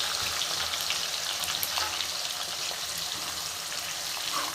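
Chopped onion fries in oil over a medium gas flame for a vegetable biryani, giving off a steady, dense sizzling hiss without pause and with no voices.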